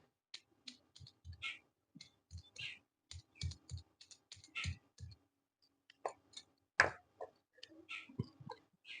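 Garlic cloves being crushed in a kitchen while cooking: a series of soft, close thuds and clicks in uneven rhythm, fairly quiet, with short pauses between strikes.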